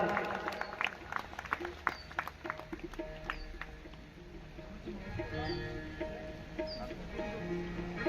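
Applause from a village audience welcoming guests at a religious storytelling gathering, a burst of scattered clapping that thins out over several seconds, heard alongside talking and faint background calls.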